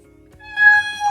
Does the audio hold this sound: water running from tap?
no